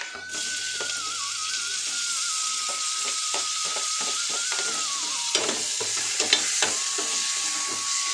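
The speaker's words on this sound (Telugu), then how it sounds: "ఇప్పుడు ఏం చేస్తానంటే ఈ టమాటాని ఇందులో వేసేస్తున్నాను" Tomatoes go into a hot pan with curry leaves, setting off a continuous close sizzle of frying with light stirring and a few utensil clinks toward the end.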